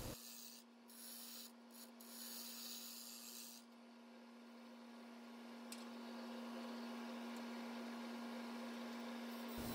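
A wood lathe spins a spalted maple blank at around 500 to 600 RPM, giving a steady, even hum with a constant tone and a soft rubbing hiss. Brief scraping bursts come early on, then the hum carries on unbroken.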